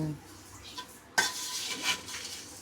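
A poha chivda mixture is stirred in a pan with a utensil, giving a short sequence of scraping and clinking strokes over a faint sizzle, with one sharper metallic scrape partway through.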